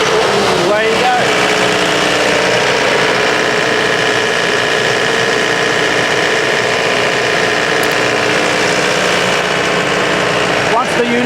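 A PD250 diesel compressor engine runs steadily at idle, a loud, continuous mechanical drone with vibration that holds unchanged from start to finish, with no voices over it.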